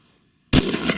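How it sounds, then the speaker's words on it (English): A single sharp rifle shot on a Thanksgiving Day deer hunt, cracking loud and close after near silence, followed by a brief outdoor echo. "It's gonna fire whenever you pull that trigger."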